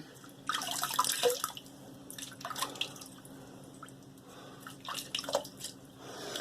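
Hot water runs and drips from a faucet into a sink, with intermittent splashing bursts over a steady low hum.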